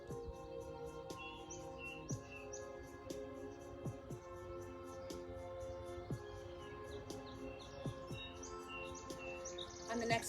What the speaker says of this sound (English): Just listen to the birds and enjoy it.